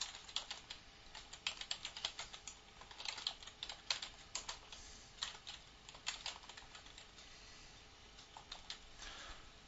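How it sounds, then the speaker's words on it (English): Rapid, irregular clicking of computer keyboard keys as a web search is typed, a steady patter of light taps running throughout at close range with no talking. "type in the information you want to research"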